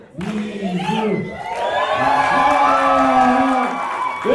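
A stand-up comedy crowd chants and shouts together in a loud, sustained mass of voices, rising into a swelling cheer with whoops that carries on throughout.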